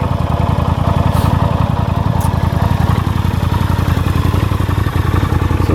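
A 1983 Honda CX 650 Turbo motorcycle engine idles steadily and loud up close, a rapid even pulsing with mechanical clatter and no talking.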